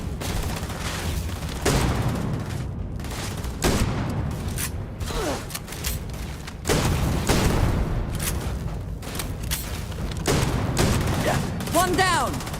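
Gunfire in the video game Starfield comes in repeated bursts of sharp shots and booms spread over the scene, with a person talking over the combat in between.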